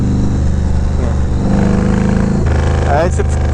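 A Yamaha Road Star 1700 Silverado motorcycle rumbles steadily while being ridden, its loud low engine drone continuing throughout, with a shift in pitch partway and a voice talking over it.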